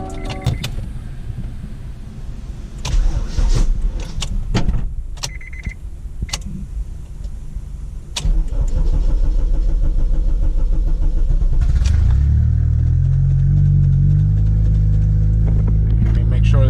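An Acura RSX with a turbocharged engine cranks and fires up, settling into a loud, close, steady idle after clicks and handling noises, while a person talks over the earlier part.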